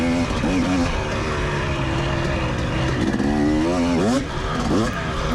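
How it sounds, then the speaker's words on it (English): A four-stroke dirt bike engine races during a hare scramble, its loud, close drone rising and falling through repeated revs and gear changes, with another rider's engine mixed into the steady roar. "You can hear the four-stroke."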